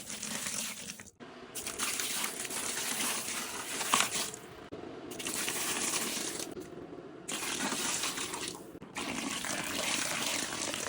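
Hot water pouring and splashing over puja vessels set to soak, a steady loud gush broken by three short pauses, with no talking.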